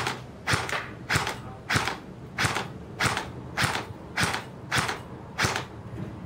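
A KWA SR-10 airsoft rifle fires at a target in about nine evenly spaced semi-automatic shots, each a sharp close snap with mechanical clack, no talking.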